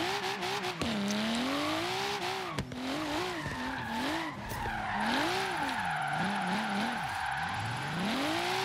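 Tires of a Volvo 850 R with a swapped engine squeal and skid continuously while drifting in the racing game Forza Horizon 3, the wavering screech loud and close alongside engine noise, with no talking.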